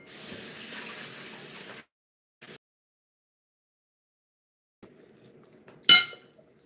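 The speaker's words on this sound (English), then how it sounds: "Go and rinse your hands." A kitchen tap runs as hands are rinsed under it, a steady wash of water for about two seconds, then a brief splash, a pause, and a few clinks and small sounds ending in a sharp knock.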